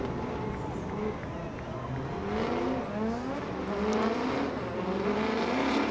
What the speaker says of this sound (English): You want to see the last drift cars out here.